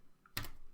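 A short burst of keystrokes on a computer keyboard while entering a value in Fusion 360 software, with a few quick taps close to the microphone and no speech.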